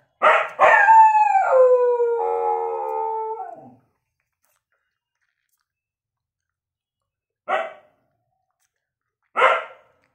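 A dog lets out a long wavering howl that slides down in pitch, followed after a pause by two short sharp barks.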